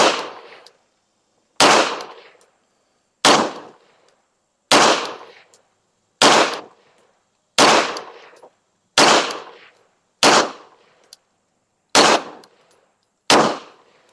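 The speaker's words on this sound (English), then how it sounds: "We're going to shoot at the top left target. We got 10 more rounds loaded up." A Beretta APX A1 Tactical pistol fires ten evenly spaced single shots at a target outdoors, each a loud sharp crack with a short decaying tail and silence between.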